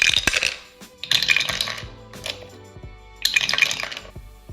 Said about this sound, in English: My favorite effect is the waterfall effect it has when you drop the dice in.